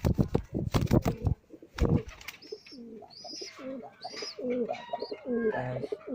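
Pigeons cooing softly in repeated low, throaty calls after a burst of fluttering and shuffling noises at the start.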